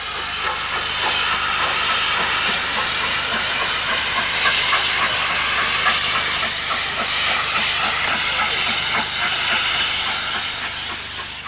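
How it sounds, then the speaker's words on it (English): A Britannia Pacific steam locomotive hauls a special train into Leeds Central station, with loud steady steam hiss and rhythmic chuffing running continuously, close and alone. "Britannia Pacific William Shakespeare draws this special into Leeds Central"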